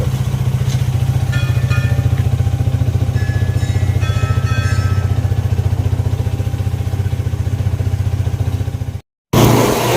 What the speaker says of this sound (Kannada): ಗಾಡಿನೆಲ್ಲ ಒರೆಸಿ ಈಗ ನೀವು ಸ್ಟಾರ್ಟ್ ಮಾಡಬೇಕು.